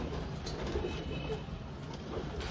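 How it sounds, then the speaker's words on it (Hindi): Coos of a large main breeder pigeon, ring number 20, sound low and soft against a steady murmur of background noise. "ये जी बड़ा मेन कबूतर 20 नंबर,"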